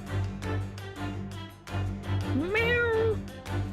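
A pet cat gives a single clear, drawn-out meow close by, rising then falling, against a low steady room hum.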